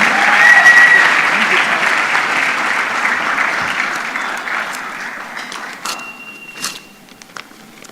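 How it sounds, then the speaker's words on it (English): An audience at a national research festival award ceremony applauds a presenter, loud dense clapping that gradually thins and fades to a few scattered claps, with voices in the background. "Give him a round of applause"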